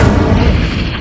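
Incendio fire spell cast in Hogwarts Legacy, a dense, loud rumbling whoosh with a heavy low boom that holds steady for about a second, alone without talk.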